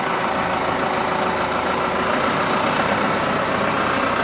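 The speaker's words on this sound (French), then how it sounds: "on prend le tracteur et la planteuse" A farm tractor idles on a potato farm, its engine a steady, loud low rumble with a broad mechanical hum that runs unbroken throughout.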